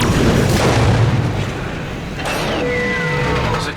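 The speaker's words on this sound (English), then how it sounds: "Captain, now would be a good time to shoot the locking mechanism" A heavy booming blast fired at a locking mechanism in a Star Trek video game rumbles loudly, followed by a whooshing sweep and a rising electronic whine as the machinery reacts.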